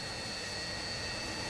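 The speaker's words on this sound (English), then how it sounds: "Listen to the engine sound." Antonov cargo plane's jet engines roar in a steady, dense broadband rush with faint high whine tones, constant and loud throughout with no voices.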